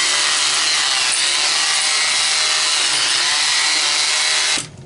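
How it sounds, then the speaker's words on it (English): A hammer drill with its bit taped up buzzes steadily while vibrating freshly poured wet concrete in masonry work, a loud continuous close-up drone that cuts off abruptly near the end. "I got a hammer drill and I just taped up the bit, so you put it in there"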